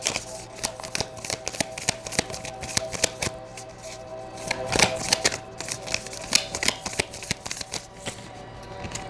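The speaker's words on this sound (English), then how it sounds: "let me pull an Akashic Tarot card for this person" Tarot cards riffled and shuffled repeatedly by hand in a rapid, crackling run of flicks and slaps, close and clear, lasting throughout with no talking.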